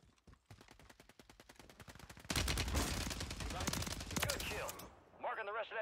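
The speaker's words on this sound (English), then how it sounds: "Who y'all shooting at?" Rapid bursts of automatic gunfire from an STG 44 loadout in Warzone 3, a sparse volley giving way to a dense, loud stretch of shots, with a voice speaking briefly at the end.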